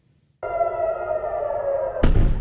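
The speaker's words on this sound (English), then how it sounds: "Sirens through the night, sending millions across Israel to bomb shelters." A loud, steady wailing air raid siren in Israel during Iranian missile attacks starts abruptly after brief silence, then a sudden burst of broadband noise cuts in near the end.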